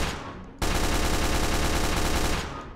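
Sustained automatic gunfire in the Roblox video game, a dense, loud barrage of rapid shots starting abruptly and running steadily for about two seconds before easing off.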